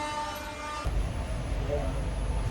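Steady rumble of a moving train, loud and continuous, with a sustained tonal hum fading out early on.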